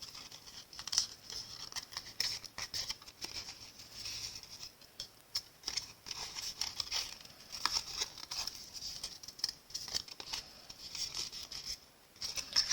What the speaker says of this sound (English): We're going to fold it up now.